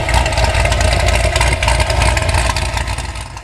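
A Tom Henry Racing Camaro with a changed camshaft and THR exhaust (304 stainless headers, high-flow metal matrix cats, 3-inch pipes, THR mufflers) rumbles loudly and steadily at idle, a deep throbbing drone that eases slightly toward the end.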